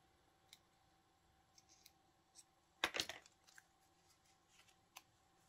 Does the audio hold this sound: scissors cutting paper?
yes